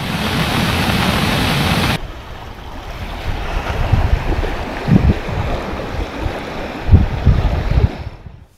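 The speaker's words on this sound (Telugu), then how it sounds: "పొల్లూరు వద్దనున్న జలపాతంలో భారీగా నీరు చేరడంతో ఉధృతంగా మారింది" Rushing floodwater at the Polluru waterfall, swollen by heavy rain, roars as a continuous broadband wash with wind buffeting the microphone, loud at first, then a deeper turbulent rumble with surging pulses.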